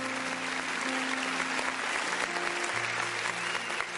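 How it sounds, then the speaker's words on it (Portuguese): A church congregation at a revival conference applauds continuously for four seconds, a broad, even wash of clapping heard from within the room, with steady low tones like held keyboard or bass notes underneath and no talk. "Palmas para Jesus."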